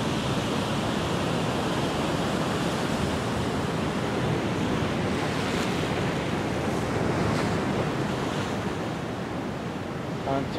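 Steady roar of ocean surf washing onto the shore, a continuous broad hiss of breaking waves with some wind, no voices.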